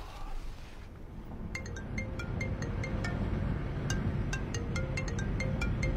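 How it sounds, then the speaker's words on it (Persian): A telephone rings with repeated bright electronic trills at a steady pace, fairly faint beneath a dense, noisy room background. "چرا تلفن تو جواب نمیدی؟"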